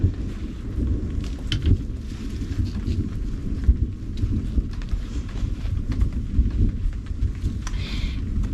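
Low thunder rumbles steadily outdoors in Alaska, with wind buffeting the microphone and a faint patter of rain, continuous and fairly close with no talking.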